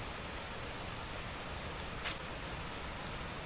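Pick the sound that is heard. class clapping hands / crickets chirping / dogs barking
crickets chirping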